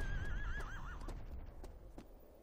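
A horse in the video game Shadow of the Colossus lets out a wavering whinny that slides downward, followed by a few light clip-clop hoofbeats, fairly quiet with no talk.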